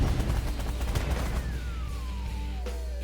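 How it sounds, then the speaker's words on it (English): Sustained rapid minigun fire in the space combat game The Last Federation, a dense stream of rattling shots with a high whining tone descending through the volley, loud and continuous. "the minigun still works wonders against you"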